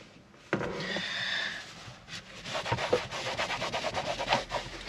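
A brush with green cleaner works over the plastic dashboard of a Skoda Fabia vRS, starting with a sharp contact and building into a quiet, close run of rapid scrubbing strokes that grows more rhythmic toward the end.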